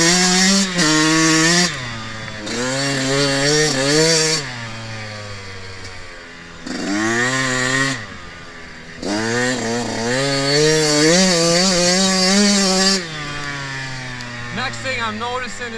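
A brand new 2021 Yamaha YZ125X two-stroke dirt bike rides through wet, deep sand, its engine wailing up and down through revs in loud buzzing surges with brief drops between, close to the rider.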